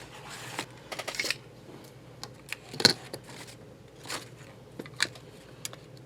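Scissors snipping a small paper scrap in half for a junk journal, a few short, crisp cuts and rustles close by, separated by quiet pauses.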